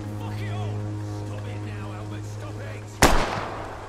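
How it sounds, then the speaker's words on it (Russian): In the video game Vampyr, set in a Whitechapel area under curfew, a single sharp gunshot cracks out loud after a stretch of droning background tones and murmured game voices, followed by a brief decaying tail. "Стрельба, блин, в комендантский час."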